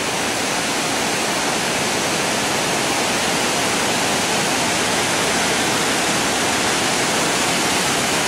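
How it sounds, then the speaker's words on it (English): River water pours over a dam, fast and high, in a steady, loud, broadband roar that holds constant without pause and with no voices over it. "There's the water coming down the dam."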